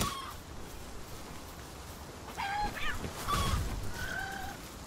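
A chicken in the Palworld video game gives a few squawking, honking clucks in short bursts over a muffled game background.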